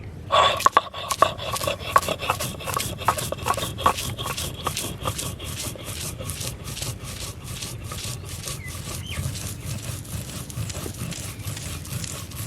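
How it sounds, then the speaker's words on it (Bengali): Spices and drumstick leaves ground by hand on a shil-nora stone slab with a stone roller, a steady run of rhythmic scraping, rubbing strokes, close and fairly loud, with no talk. "বন্ধুরা, আমি শিলনোড়ায় বেটে নিচ্ছি।"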